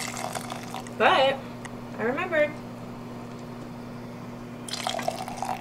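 Pasta water is scooped and poured into a cup in a home kitchen, with short bursts of liquid pouring and dripping. A person speaks briefly over a steady hum.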